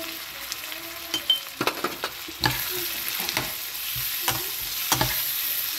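Vegetable pulao being stirred in a hot pan with chilli powder and biryani masala: an ongoing sizzle with clustered scraping and clacking of a spoon, close and moderately loud, with no speech.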